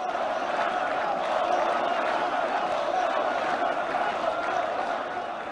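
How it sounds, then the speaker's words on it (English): A massive crowd in Poland chants for Donald Trump and the USA, a steady, dense roar of many voices sustained throughout without pause. "Listen to the massive crowds chanting Donald Trump and USA"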